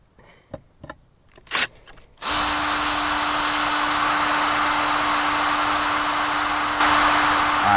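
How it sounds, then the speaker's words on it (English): After a few clicks and handling knocks, a power drill spins up and runs steadily for several seconds, boring a hole in a boat deck for a Troll Tamer bracket, its whine loud and close. "So we're going to go ahead and get this hole drilled"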